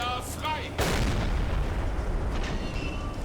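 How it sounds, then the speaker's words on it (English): Submarine deck gun firing a single heavy shot at a ship in Silent Hunter 3, a sharp loud boom followed by a long rumbling decay over steady background noise. "Deck gun, open up."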